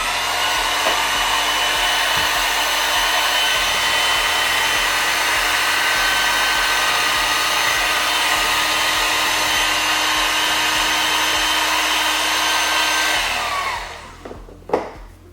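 Heat gun blowing hot air on smoke tint film over a Tesla Model X tail light, a loud steady whining hum with a high tonal drone, running evenly then switching off near the end with a few clicks.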